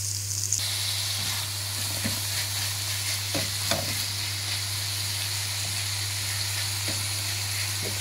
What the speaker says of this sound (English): Now I'm gonna add the mince.